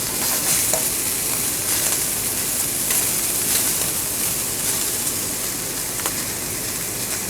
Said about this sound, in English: You can saute these for as long as you would like in terms of how crisp or cooked you want your vegetables.